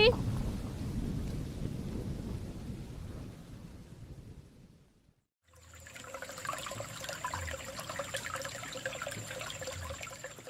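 Heavy rain pours with a deep rumbling undertone, then cuts off abruptly about halfway; a different steady, hissing ambience follows after a brief silence.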